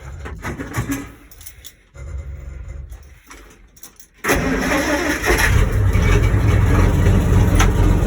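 A 1956 Dodge flatbed's flathead six cranks with a few starter whirs and pauses, then catches and roars to life, settling into a loud, steady, rough idle close by.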